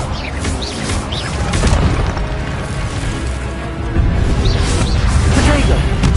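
An Expelliarmus spell is cast in the video game Hogwarts Legacy, a loud, dense wash of magical booms, whooshes and crackles that continues without a break and swells near the end.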